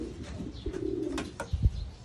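Pigeons bred from Japanese stock give soft low coos over about two seconds, close by and fairly quiet, with a faint rustle.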